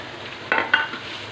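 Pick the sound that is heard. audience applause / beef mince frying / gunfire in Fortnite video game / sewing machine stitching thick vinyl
beef mince frying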